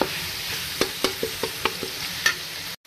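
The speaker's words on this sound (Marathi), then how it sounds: "आता छानपैकी कांदा मऊ होईपर्यंत आणि गुलाबीसर होईपर्यंत फ्राय करून घ्यायचे आहे व्यवस्थित" Chopped onion frying in oil in a pan while a spoon stirs it, a steady close sizzle broken by several sharp scraping knocks of the utensil against the pan, then an abrupt stop.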